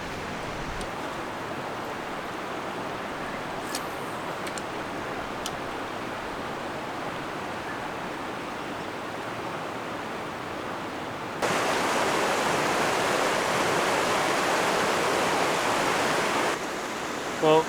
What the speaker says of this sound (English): the water around here is moving so fast